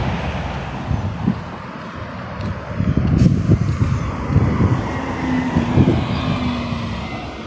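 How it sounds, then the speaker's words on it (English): Wind blows outdoors with a rough, broadband rushing that buffets the microphone in uneven low gusts. Faint distant traffic sits underneath. "See, the wind at least blowing, that's good."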